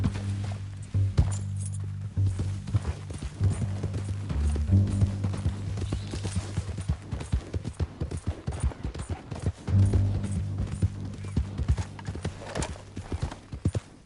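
Hooves clip-clop rapidly in a galloping rhythm, with a horse whinnying and snorting over a steady low background hum, from the video game Red Dead Redemption 2.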